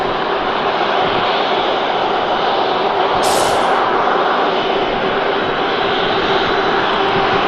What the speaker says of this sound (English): Logan Air, Embraer ERJ 145 just creeping forwards there.